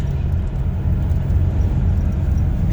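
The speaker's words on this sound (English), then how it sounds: "let's try to accelerate" A Chevrolet S10 pickup accelerates, giving a steady low rumble of engine and road noise that holds loud and even throughout the short stretch.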